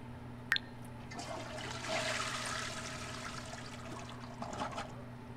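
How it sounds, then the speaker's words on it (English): A toilet flushes in The Sims 4, a soft swirling rush of water that builds and then trails off into trickling, heard faint and alone behind a low steady hum. "Flush that when you're done, please."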